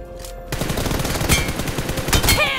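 Rapid gunfire from a first-person shooter video game, a dense stream of shots filling the clip after a brief quiet start, loud and close with no talking.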